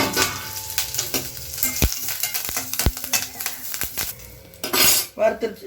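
Curry leaves and black pepper dry-roasting in a pan, with frequent metallic scrapes and clinks of a spoon against the pan over a soft sizzle, ending in a louder burst of frying.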